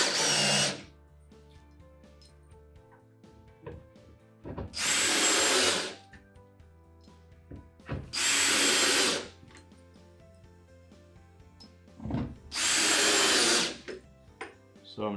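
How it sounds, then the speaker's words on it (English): Panhead screws are driven into wood with a power drill while a mid-century modern table is built, heard as four loud, evenly spaced whirring bursts with short pauses and light handling sounds between them. "I've got some panhead screws here, and I'm just going to make sure I'm on my marks and just screw all those down"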